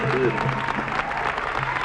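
Wedding guests clap along amid festive noise, with a voice and music-like tones mixed in over a fairly loud, continuous bed of applause.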